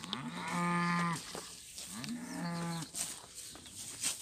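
Cows on a farm give two long, deep moos close by, each drawn out for about a second, separated by a quiet pause with faint background rustle.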